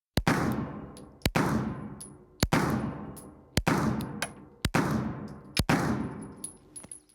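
A Rock Island STK100 9mm pistol fires six loud, sharp shots at a steady pace roughly a second apart, each with a ringing echo trailing off outdoors.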